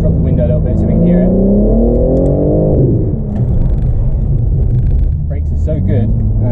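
A BMW G80 M3 in sport mode accelerates hard with the window slightly down, its engine rising in a loud, rumbling rev, then easing off and pulling again, heard from inside the car with someone talking over it.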